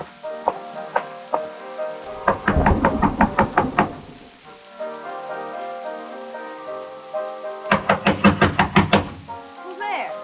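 Knuckles rap on a bedroom door in a 1940s radio suspense drama, two separate runs of quick, evenly spaced knocks, loud and close, over a soft musical score.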